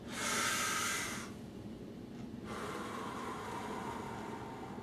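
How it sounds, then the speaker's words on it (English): Slow, deep human breathing: a loud, airy inhale lasting about a second, a brief pause, then a long, steady exhale close to the microphone, with no talking. "take a couple of deep breaths"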